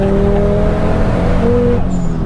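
A tuned 570 BHP Ford Focus ST spins its wheels in third gear on a wet track, the engine holding a loud, steady high-revving drone with a rising pitch near the end.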